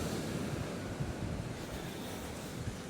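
Steady rushing surf of large ocean waves, broad and continuous with low rumbling swells, mixed with wind buffeting the microphone, no voices.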